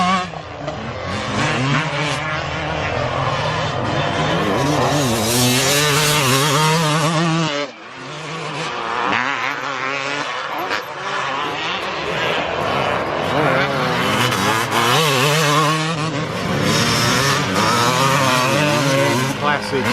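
Classic 1990s Kawasaki and Yamaha motocross bikes race around a dirt track, engines screaming and rising and falling through gear changes almost without a break, loud and close, with commentary running over the noise.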